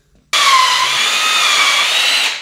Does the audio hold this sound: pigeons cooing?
no